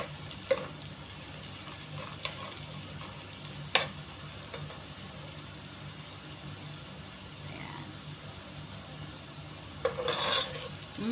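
Onions frying in a pan for an ampalaya dish, a steady close sizzle with occasional stirring clinks and scrapes of the utensil against the pan.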